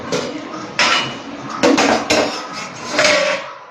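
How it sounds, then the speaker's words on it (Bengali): A cooking pot lid is lifted off after a spell of simmering: metallic clinks and scrapes, a couple of sharp knocks of the lid against the rim, close and fairly loud, over low kitchen background. "আমি এবার এই ঢাকনাটা খুলে দেখি।"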